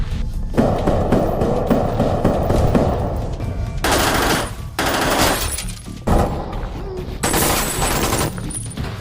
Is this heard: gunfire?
yes